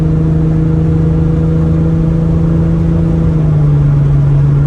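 Loud, steady engine drone from a big-turbo Toyota Supra making 800 to 1000 hp with a TH400 transmission, a sustained turbo whine holding at one pitch, then easing slightly lower near the end; no voices.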